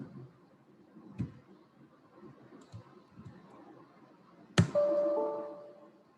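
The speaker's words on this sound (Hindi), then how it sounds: "तो एक बेल की साउंड आपको सुनाई दी होगी" Computer alert bell triggered by a Python print of the \a escape sequence: a sudden bright chime with a sustained, slowly fading tone, preceded by faint keyboard clicks in a quiet room.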